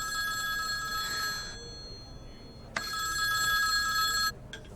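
A mobile phone rings with a bright electronic trilling tone in two long bursts separated by a short pause, fairly loud and close, with no talk over it.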